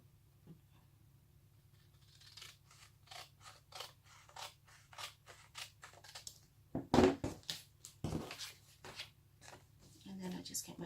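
Scissors snipping paper to cut out a handmade envelope, a steady series of quiet crisp cuts close by, with a couple of louder snips and paper rustle near the end.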